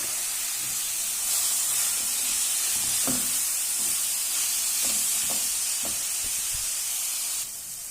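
Chili, coriander, pepper and garam masala powders sautéing in a pan for a green peas curry, a continuous soft hiss and sizzle with a few faint clinks of stirring.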